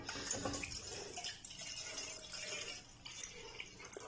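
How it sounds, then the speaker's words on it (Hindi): About two cups of milk are poured into a pan on an unlit stove for a Marie biscuit dessert, making a soft, continuous liquid splash and trickle with a faint ringing of the vessel. "पैन ले लिया है तो इसमें डालेंगे हम तकरीबन 2 कप दूध"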